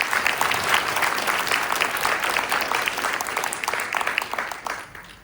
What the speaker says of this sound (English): So can we have a round of applause before we start?